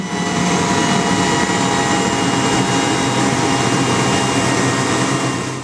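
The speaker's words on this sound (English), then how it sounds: "the ignition's going to start and the fuel's going to start flowing, and we're going to start the engine" A small jet engine roars loud and close at startup, a steady, dense broadband rush with a whining tonal layer that holds without pause and no voices over it.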